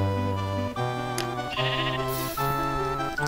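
Goats in the Minecraft video game bleat in a run of several wavering, nasal calls, loud and close, one after another with short gaps and no talk over them.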